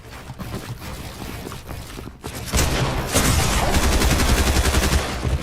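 Rapid gunfire from the Fortnite video game fills the clip, sporadic shots at first and then a dense, loud sustained barrage of automatic fire in the second half.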